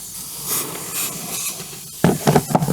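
Airbrush compressor hissing during 1/48 scale Timberwolf model painting, a steady soft airy hiss with brief spray bursts, then louder sputtering puffs near the end.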